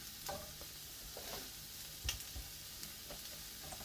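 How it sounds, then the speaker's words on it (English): A bun toasts in a hot pan, giving a quiet, close sizzle with a few soft scrapes and one sharper clack partway through, with no talk. "We're going to go ahead and we're going to toast our bun."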